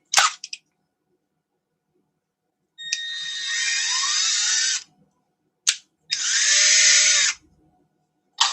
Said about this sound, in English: It's one of the beautiful things about aluminum is the fact that it is so easy to sit there and drill.